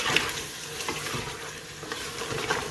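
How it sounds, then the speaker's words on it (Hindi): Mutton for an Afghani karahi fries with spices in a pan, a steady close sizzle with scattered crackles and faint stirring scrapes throughout, no voices. "बस अब इसको हम ज़रा फ्राई करेंगे"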